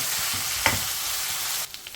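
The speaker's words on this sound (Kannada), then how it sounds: "5 ನಿಮಿಷ ಚೆನ್ನಾಗಿ ಫ್ರೈ ಮಾಡೋಣ." Bitter gourd dry-frying in a pan for a palya, a steady broadband sizzle with one brief stirring scrape near the middle, fairly close, before the frying noise drops off toward the end.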